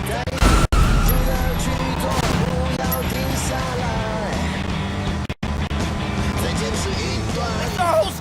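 A car driving away in the video game Sleeping Dogs, a loud continuous engine roar mixed with game sounds and brief dropouts, with voices talking over it.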